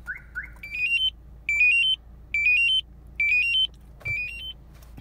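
A Megicar 906 car alarm sounds on a Lada Vesta Cross, first with two short chirps and then four loud rising electronic warbles in a steady repeating rhythm, with no talk over it.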